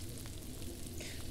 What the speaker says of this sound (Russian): Боже, как она шкварчит, как это круто.